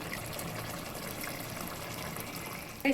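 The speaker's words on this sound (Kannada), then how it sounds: "ಈಗ ನಾನು ನೀರು ಹಾಕಿ ಅಕ್ಕಿಗೆ ಎಷ್ಟು ಬೇಕಾಗುತ್ತೋ ಅಷ್ಟು ನೀರೆಲ್ಲ ಹಾಕಿ ಸೆಟ್ ಮಾಡ್ಕೊಂಡಿದ್ದೀನಿ" Water pours into rice for chicken biryani as a soft, steady rushing trickle, fairly quiet and unbroken, with a brief knock right at the end.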